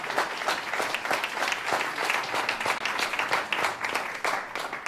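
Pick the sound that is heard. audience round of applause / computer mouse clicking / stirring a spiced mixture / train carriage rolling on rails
audience round of applause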